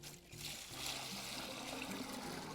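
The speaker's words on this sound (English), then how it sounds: "We got a 5-gallon bucket of water we're gonna pour in here." Water is poured from a 5-gallon bucket into a container, giving a steady, close, splashing rush that runs throughout the short stretch.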